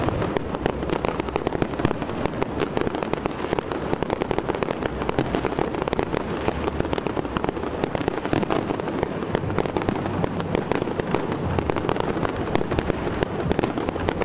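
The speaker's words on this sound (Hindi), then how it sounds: "12 बजते ही आसमान पर आतिशबाजी के ऐसे रंग बिखरे कि देखने वाले दम बखुद रह गए।" New Year's midnight fireworks at the Brandenburg Gate in Berlin crackle and bang continuously, a dense rapid barrage of loud bursts and pops with no letup across the whole stretch.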